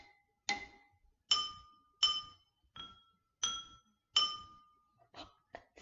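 Water-filled glasses of a homemade water xylophone struck one at a time, bright ringing clinks at different pitches picking out the Twinkle Twinkle melody, each note decaying quickly, close and clear with no talking.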